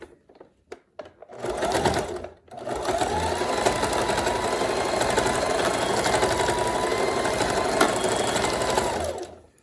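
A sewing machine stitches back and forth over a seam near the crotch of a stripper one-piece garment, running steadily and loudly for about eight seconds after a few short clicks and a brief start.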